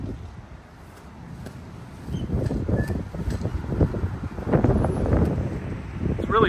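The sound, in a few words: strong wind on microphone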